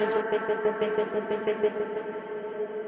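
A sustained musical tone broken into rapid, stuttering slices, giving a choppy, gated pulse that repeats evenly throughout.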